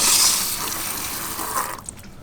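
A garden hose sprays water over a car's engine bay after a coolant line repair, a loud hissing gush that tapers off near the end, with no talking.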